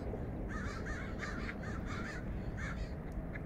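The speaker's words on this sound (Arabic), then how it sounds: "شوف هنا شوية الطيور، البط الكندي، اوكي كندا جيس" Canada geese honk repeatedly in Vancouver, British Columbia, a string of harsh calls at moderate distance over a low background rumble.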